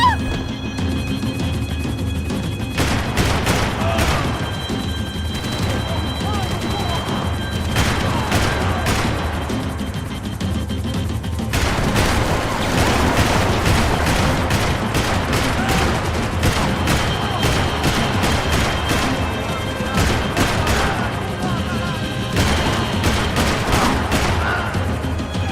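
Sustained bursts of gunfire from the Max Payne 3 video game, rapid loud volleys of shots recurring throughout amid a vehicle chase, with shouting voices at moments.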